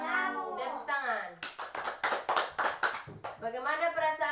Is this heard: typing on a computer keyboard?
no